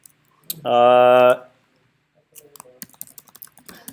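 Keystrokes on a computer keyboard as a name is entered in a text field in Substance Painter. A sustained droning tone comes first, then a quick run of light clicking keys near the mic.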